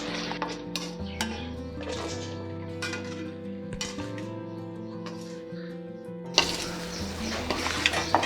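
North Indian style chickpea masala is stirred in a pan, with scattered metallic clinks and scrapes over a steady background hum, growing busier and louder near the end.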